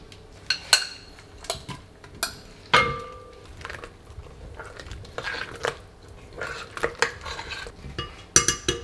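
Apples being stirred into an apple pie mixture in a bowl, a utensil clinking and scraping against the bowl in irregular close knocks and clatters.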